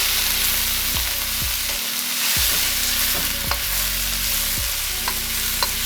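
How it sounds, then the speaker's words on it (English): Corn sizzles steadily in a pan for special fried rice while a utensil stirs and scrapes it, with periodic clanks against the pan over a continuous, close frying hiss. "Now we're going to stir for about another 4 minutes"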